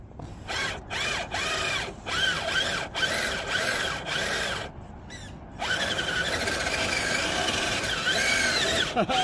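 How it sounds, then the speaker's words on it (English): Electric winch on a 1/10 scale RC crawler pulling the truck up a snowy outdoor climb, a steady whining mechanical grind with brief pauses, close and fairly loud throughout. "We got the winch. Let's see if we can do it this time."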